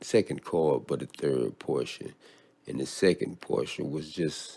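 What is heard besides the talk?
No distinct noise like a dog, phone or traffic.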